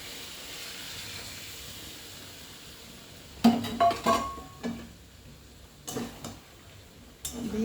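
Mutton cooking in a hot pan hisses softly, then a burst of sizzling and clattering utensil knocks breaks out as spice-blender rinse water goes in, followed by more scattered scrapes and taps.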